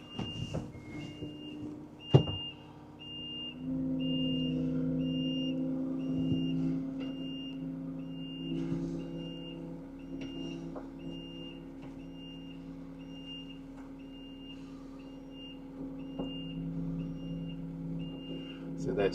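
Tracked vehicle reversing onto a trailer, with a steady repeating reversing beeper over a low engine rumble and a sharp clank near the start; people speak intermittently.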